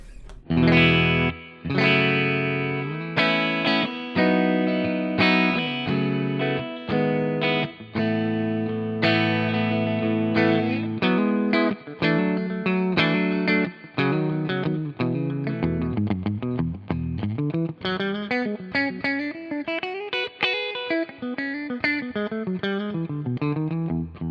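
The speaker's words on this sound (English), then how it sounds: "we've got the clean sound of the amp" An electric guitar plays chords and a melodic run through a portable amplifier on a clean tone, loud and alone, with no talking.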